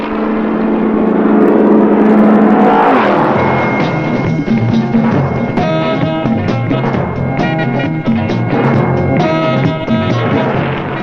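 Can-Am race cars roar along the track at Riverside in 1971, one loud engine winding up and passing close before others follow with shifting pitch, a continuous racing din.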